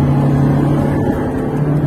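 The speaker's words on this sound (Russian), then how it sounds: "Педаль в пол, и мотор набирает обороты" A Lada Niva Travel engine revs hard under full throttle, a loud steady droning hum that holds close and constant throughout.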